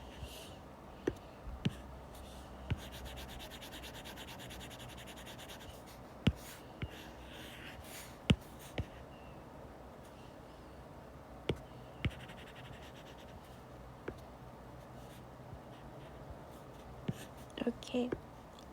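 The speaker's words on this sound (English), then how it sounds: "So I'm gonna just write this down." A pen scratches out calculations on paper in soft, intermittent strokes with occasional taps, close and quiet in a hushed room, with faint murmured talk underneath.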